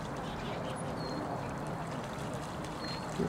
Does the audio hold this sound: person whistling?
no